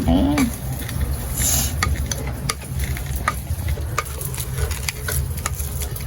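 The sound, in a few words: mashing cooked plantain in a pan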